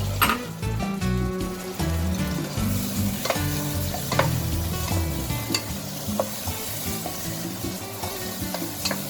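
Spice masala with finely chopped tomato sizzles and fries in oil, with steady frying hiss and repeated scraping stir strokes against the pan throughout, close and fairly loud, no talking.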